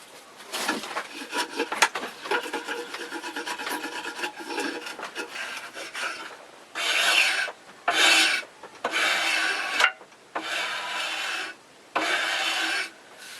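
A drawknife shaves a wooden bow stave for a recurve bow. Irregular rasping scrapes come first, then several long, loud strokes of about a second each with brief pauses between them, all close up.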